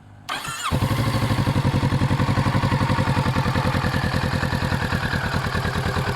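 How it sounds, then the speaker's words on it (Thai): A Kawasaki Z650RS motorcycle engine with its stock exhaust cranks on the electric starter and catches, then settles into a steady, throbbing idle with a rapid, even exhaust pulse, close and loud. "นี่คือเสียงเครื่องยนต์กับเสียงท่อนะครับ"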